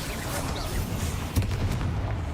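Hogwarts Legacy's Bombardment spell in combat: a dull, booming blast with a heavier thump partway through, over a constant rumbling battle din.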